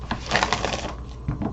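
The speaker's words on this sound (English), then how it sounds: "One more shuffle and a cut" Tarot cards riffled and cut by hand, a dense crackling flutter of card edges close by, easing off and then a short second burst as the deck is cut.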